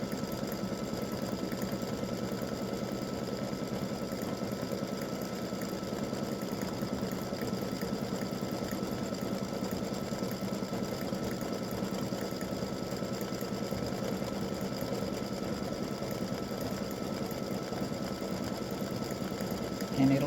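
An embroidery sewing machine stitches lettering in black thread for a pickleball design, running as a steady, continuous mechanical whir of rapid needle strokes throughout, close and even in level.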